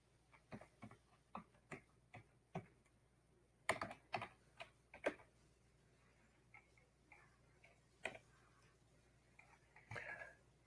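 Username typed on a computer keyboard, with irregular bursts of close key clicks, some quick runs and some single taps, separated by short pauses in a quiet room.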